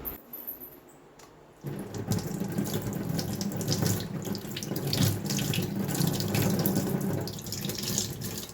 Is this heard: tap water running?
yes